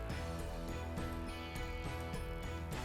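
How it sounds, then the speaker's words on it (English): Allen head screws being tightened to secure a radio in its mount, heard as a close, rhythmic run of small ratcheting clicks at an even pace over a dense mechanical hum. "secure the radio with the supplied Allen head screws"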